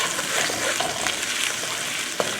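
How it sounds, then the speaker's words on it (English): Onion stir-fries in a pan on medium-high heat, sizzling steadily while a wooden spoon scrapes and stirs it at close range. "And I use a wooden spoon and stir fry this."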